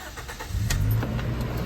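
A Toyota Innova E automatic with 38,000 km on it cranks briefly and catches, settling into a close, low engine rumble within about a second.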